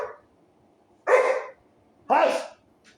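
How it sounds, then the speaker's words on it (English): Dogs in a home bark loudly in two sharp bursts about a second apart, each one short and full, with near silence between them and a faint yip at the end. "Yes, I own dogs. Yes, they're loud."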